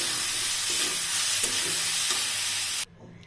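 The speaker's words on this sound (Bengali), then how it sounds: "শাকের পানি শুকিয়ে আসলে তেল উপরে থাকলে বলবেন আপনার শাক ভাজা হয়ে গেছে" Water spinach (kalmi shak) frying in oil in a pan while being stirred, a loud dense sizzle with soft scraping strokes that cuts off abruptly near the end.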